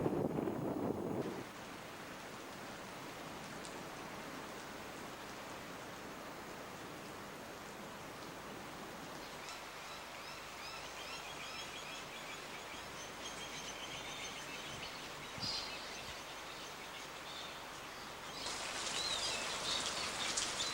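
Steady, soft first rains of the season hiss evenly for a long stretch, with a heavier burst at the start and end, and faint bird calls in the background.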